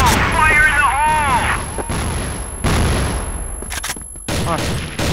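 A grenade blast and bursts of gunfire ring out during a competitive first-person shooter match on the Factory map, with sharp chaotic game effects under excited voice chat.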